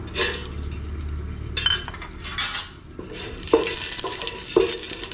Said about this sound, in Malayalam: ഏലക്കായും കറുകപ്പട്ടയും ഗ്രാമ്പൂ ഇട്ട് നമുക്കൊന്ന് വറുത്തെടുക്കണം